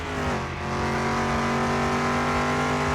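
Engine of a 1969 Chevy Nova in Car Mechanic Simulator 2021 revving and accelerating, a loud, steady rising drone with smooth harmonic whine held throughout, no talk.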